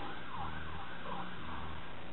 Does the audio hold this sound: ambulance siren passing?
yes